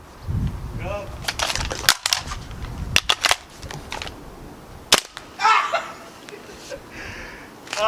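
A WE HK416 gas blowback airsoft gun firing, several sharp cracking shots scattered among voices and laughter nearby.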